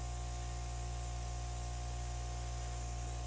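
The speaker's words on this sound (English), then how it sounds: "So you're zigzagging your airbrush just a little bit." An airbrush spraying acrylic paint, a steady, even hiss with a faint constant hum beneath it, close and unbroken; no speech.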